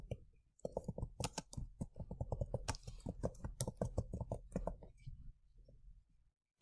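Rapid, uneven keystrokes clatter on a computer keyboard while text is entered into a PowerPoint slide, with brief pauses between bursts of close, crisp clicks before the typing trails off.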